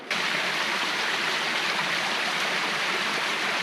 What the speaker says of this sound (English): I do love coming across these little streams.